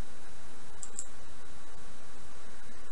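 A computer mouse right-clicking an image file to restore it in Macrium Reflect backup software: two quick, crisp clicks close together, quiet and alone over faint background hiss.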